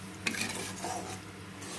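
Water poured onto spice paste frying in a pan, giving a brief hiss and bubbling sizzle with a spoon stirring and scraping close by, steady and low.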